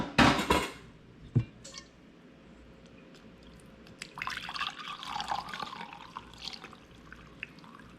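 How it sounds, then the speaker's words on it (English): Homemade elderberry syrup pours into a measuring container, a thin liquid trickle and splashing in the second half, after a couple of sharp knocks at the start; no voices. "Let's go ahead and just pour now that we're near the end."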